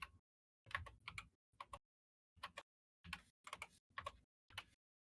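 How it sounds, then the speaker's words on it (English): Computer keyboard typing picked up by a podcast microphone comes as short bursts of rapid clicking keystrokes, separated by brief pauses. The clicks are close and crisp, and no one talks. "Like how your keyboard is getting picked up every type that you do."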